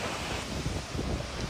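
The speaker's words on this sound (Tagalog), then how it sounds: "halos mag-zero visibility sa pinagsamang buhos ng ulan, mayat-mayang pagkidlat at bugso ng hangin" Storm wind gusting with heavy rain during a deluge in Dubai, a loud, continuous broadband roar and rush close to the microphone with no voices.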